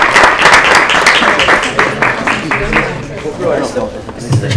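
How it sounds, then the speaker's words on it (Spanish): An audience applauds a speaker at a talk on winning study scholarships abroad: dense, lively clapping at the start that gradually thins, with crowd murmur mixed in. "Muchas gracias, David, un aplauso para vos."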